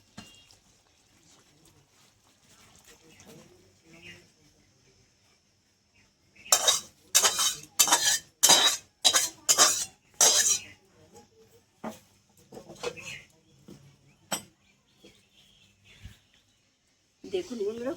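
While dahi potol (pointed gourd in yogurt) is taken off the stove, a metal spoon scrapes and clanks against a cooking pan in a quick run of loud clatters, with a few fainter taps after and talk around it.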